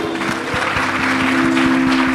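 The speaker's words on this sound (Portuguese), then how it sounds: "Mais uma vez, queridos, aplausos o Senhor" A church congregation applauds the Lord during a worship service, brisk clapping over a steady sustained keyboard drone and a regular low thumping beat.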